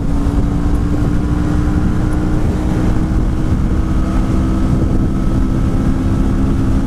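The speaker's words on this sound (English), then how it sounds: "this is CBR 1000!" Honda CBR 1000 sport motorcycle engine running with a steady, loud, continuous drone and low rumble, close by and with no talk over it.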